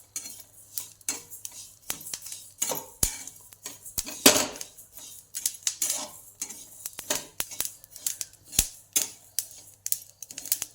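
Fennel seeds roast in a pan while a utensil stirs them continuously, giving close, irregular scraping clicks and sharp taps against the metal, with no talking.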